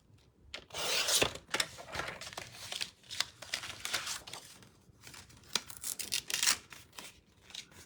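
Scissors snipping through paper during scrapbook crafting, a run of short crisp cuts and rustles in irregular bursts, close and fairly quiet, with no talk.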